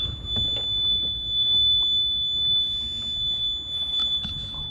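A boat's engine alarm sounds a steady high-pitched electronic tone continuously at sea, with some low rumbling and handling noise underneath.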